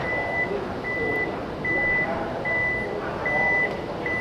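A Toyota Fortuner Leader 2022 power tailgate sounds a series of six evenly spaced, clear electronic beeps, repeating steadily over a soft background hum with no talk.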